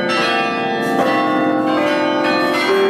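Church bells peal from a belfry in Belgium, loud and close, with overlapping strikes ringing continuously and sustaining without pause.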